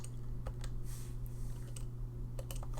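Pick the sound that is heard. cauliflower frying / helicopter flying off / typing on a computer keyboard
typing on a computer keyboard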